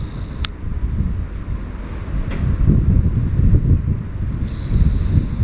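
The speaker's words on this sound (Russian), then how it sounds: "Потому что ветер восточный, сильнейший." Strong east wind buffeting the microphone on the Don river embankment, a steady low roar with gusty swells throughout and no one speaking.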